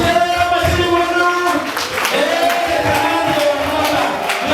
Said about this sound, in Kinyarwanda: gaturika rero amashyi y'umuntu